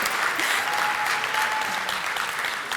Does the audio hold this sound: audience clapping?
yes